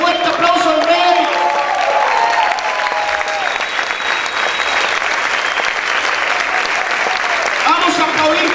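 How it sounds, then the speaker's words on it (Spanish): A church congregation breaks into loud, sustained applause for the King, dense clapping filling the room with scattered cheers while a preacher's voice carries over it at the start and end. "dale ese fuerte aplauso al Rey."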